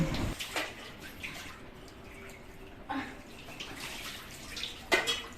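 Water splashing and sloshing as a small child is bathed in a tub, with soft drips and occasional louder splashes, close by and fairly quiet with no talking.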